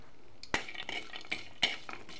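Cashews go into a pan already fragrant with cardamom and are stirred for light frying, giving a few sharp utensil clinks and scrapes over a soft, low sizzle.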